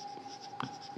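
Pen scratching on paper while working a maths problem, quiet short strokes with a slightly sharper tap in the middle, heard alone without speech.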